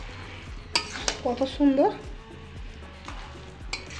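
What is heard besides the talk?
cooking semai (vermicelli) in a pan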